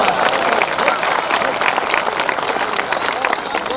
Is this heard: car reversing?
no